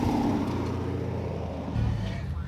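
A loud modified car engine at a car meet before a canyon cruise, a steady heavy rumble holding close for a few seconds with a slight surge near the end.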